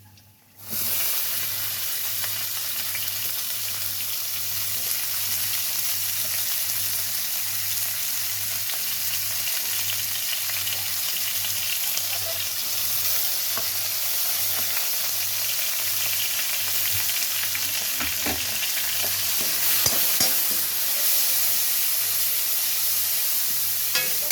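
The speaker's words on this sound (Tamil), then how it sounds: "இப்போ வந்து நம்ம வெங்காயம் போட்டு வதக்கிக்கலாம்" Onions sizzle steadily in a hot pan for a cooking dish of macaroni veg biryani, with a loud, continuous frying hiss and occasional faint stirring clinks, with no voices.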